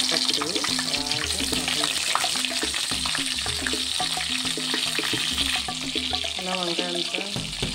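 Brinjals are added one by one to hot oil for a stuffed brinjal curry, giving a steady, crackling sizzle with stirring and clinking underneath.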